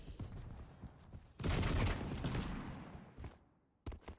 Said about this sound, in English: Firing out those warning bolts, hoping to at least do a little bit of damage.